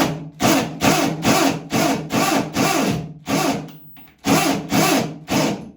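A drill boring a hole through a wall plug set in ceramic tile, running in repeated loud bursts of about half a second each with brief pauses between.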